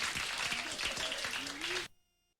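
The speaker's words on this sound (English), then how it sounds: "Some people clapping." A studio audience on the Phil Donahue show claps along during a performance, with the applause mixed under loud music and voices before cutting off abruptly near the end.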